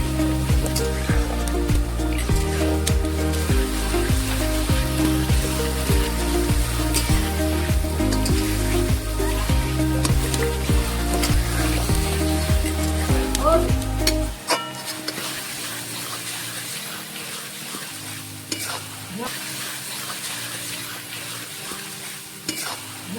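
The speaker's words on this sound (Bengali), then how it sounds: "এরপর মশলাগুলিকে খুব ভালোভাবে কষে নেব।" Cumin and coriander powder sizzling and being stirred in a pan for Bengali goat meat curry (khasir mangshor jhol), a steady frying hiss with scraping stirs; a loud rhythmic music bed covers the first half, then the sizzle continues more quietly.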